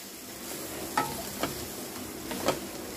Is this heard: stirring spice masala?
yes